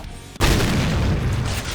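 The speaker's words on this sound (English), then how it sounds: "This is an octa-barreled shotgun." An eight-barreled double-barrel shotgun in the Guncaster Doom mod fires a single loud, close booming blast after a brief quiet moment, followed by a long, dense roaring tail that carries on to the end.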